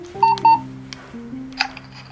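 A toy mobile phone from a capsule machine: a couple of quick electronic beeps, then a short tinny melody of stepped tones playing back, close and fairly loud.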